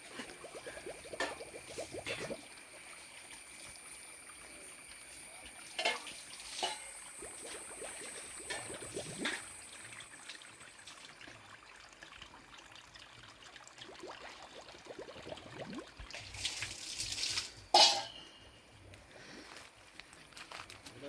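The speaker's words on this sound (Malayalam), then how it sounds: "കുളത്തിൽ നിന്നുള്ള വെള്ളം ബാക്കി വരുന്ന വെള്ളം ഇങ്ങനെ ഒഴുകിപ്പോയി ഇതൊരു വലരിയായിട്ട് പോകുന്നു" Overflow water from a pond trickles and runs down a side channel on a cardamom and pepper farm in Idukki, a steady low babble throughout with a louder splash near the end.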